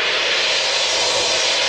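Steady, loud broadband jet-like roar of an airplane taking off, holding constant throughout with no voices.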